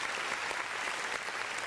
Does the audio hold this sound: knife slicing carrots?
no